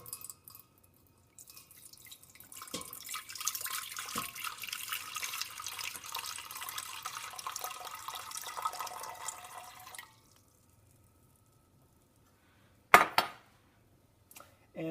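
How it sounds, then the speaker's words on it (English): Water is poured from a container into a medium pan on a kitchen counter to make rock candy. A steady splashing stream runs for about eight seconds, then stops, followed by a few sharp knocks near the end. "I am going to pour the water into the medium pan that I have."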